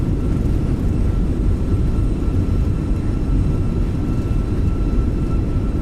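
A Fenix A320 airliner in Microsoft Flight Simulator rolls out after landing with thrust reversers deployed, giving a steady, loud, broadband engine roar with low rumble that holds evenly throughout, no voices.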